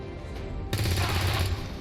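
A weapon fires in the video game XCOM 2, a sudden burst of rapid gunfire that starts partway in and rattles on loudly for about a second before fading into the game's background noise.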